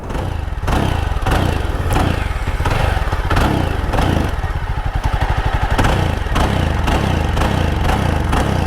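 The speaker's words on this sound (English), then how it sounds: "I'll just let you listen to the beautiful exhaust. We have twin exhaust pipes coming out." A Yezdi Scrambler motorcycle idles with a deep, loud, lumpy rumble from its twin exhaust pipes, close by, blipping the throttle a few times with no talking.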